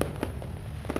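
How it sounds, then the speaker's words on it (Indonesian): New Year fireworks bursting over the streets of Mimika, a dense run of sharp pops and crackles, loud and close, layered over a steady background rumble. "Pesta kembang api menyambut Tahun Baru di Mimika."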